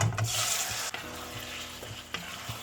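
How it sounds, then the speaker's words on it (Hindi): Boneless chicken thigh pieces fry in oil over a high flame for a karahi, giving a loud, steady sizzle broken by a few clattering stirs. "चिकन हमारा कुक हो रहा है तो आप देख सकते हैं कि फ्लेम मैंने हाई रखा हुआ है"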